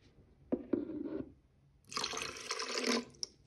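Water pours from a container into emulsion paint to dilute it for airless spraying, a steady splashing, trickling pour near the mic in two bursts with a pause between, ending with a small clink.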